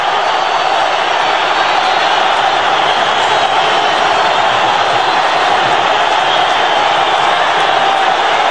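Home football crowd in Armenia roars after Armenia's goal against Portugal, a loud, dense, unbroken wall of cheering in a stadium, with a commentator's voice partly beneath it.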